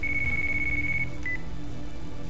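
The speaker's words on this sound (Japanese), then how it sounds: "電話鳴ってます" A phone ringing in the Yakuza Kiwami video game: a steady electronic tone held for about a second, then a short second chirp, faint over a constant low background hum.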